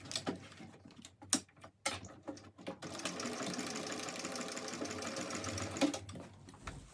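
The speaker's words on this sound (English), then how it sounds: "now you're just going to stitch that across with an 1/8 of an inch seam allowance" A sewing machine stitches across a backpack pocket seam. A few short clicks and bursts come first, then a steady whirring run of several seconds that stops abruptly, up close with no talk.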